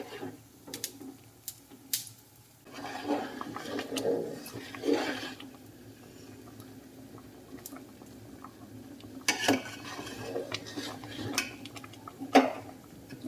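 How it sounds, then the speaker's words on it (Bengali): Chushi dumplings boil in a pot on a gas stove, with soft bubbling and a few scattered clinks of utensils against the pot, close and moderately quiet. "এই দেখো টকবক টকবক করে ফুটছে"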